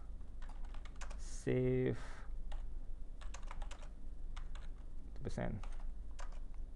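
Rapid clicking of keys on a computer keyboard, typed in quick uneven bursts close up, with a brief spoken phrase and a short electronic tone partway through.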